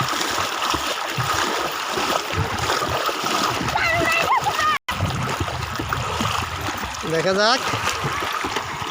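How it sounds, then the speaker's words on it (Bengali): Contestants swimming in a water race send up continuous, churning splashes that fill the scene, with a crowd's voices and shouts mixed in throughout. "এই যে প্রতিযোগীরা সাঁতার কাটতেছে"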